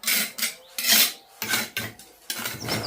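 A trowel scrapes repeatedly across uneven floor tiles. It makes about six separate raspy strokes in an irregular rhythm, close and moderately loud, with brief pauses between strokes.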